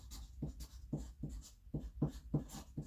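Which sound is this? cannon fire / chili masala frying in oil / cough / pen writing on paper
pen writing on paper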